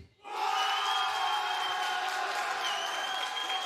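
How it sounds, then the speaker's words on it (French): An esports crowd at a Valorant tournament semi-final in Lyon bursts into applause and cheering for team GMT, a sudden loud swell of clapping, shouts and whoops that holds steady throughout. "Par applaudissement dans la salle,"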